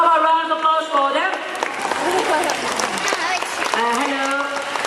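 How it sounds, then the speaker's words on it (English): An audience applauds at a parrot and pelican bird show in a Singapore bird park, crowd clapping running throughout beneath a presenter's voice over loudspeakers and bright bird-like whistles and squawks. "How about a round of applause for them?"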